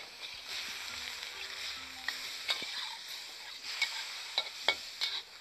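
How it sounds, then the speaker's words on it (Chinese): Fried tofu simmering in stock in a wok, a soft steady bubbling sizzle with occasional light stirring clicks and scrapes, fairly quiet and close, with no talking. "然后把这个炸过的这个豆腐呢就下锅来烧"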